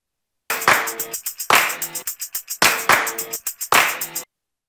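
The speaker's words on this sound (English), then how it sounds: "Hand Claps, the whole band." The whole band claps hands on an isolated studio track: tight rhythmic claps in four even bursts with short pauses between, close and dry, no voices.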